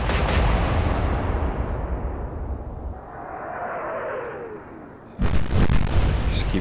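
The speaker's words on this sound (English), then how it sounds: "Keep firing away as best we can" Heavy naval guns fire from warships in Atlantic Fleet during the Battle of the Denmark Strait. A booming salvo is followed by a long rumbling roll and a whistling shell, then another loud blast near the end.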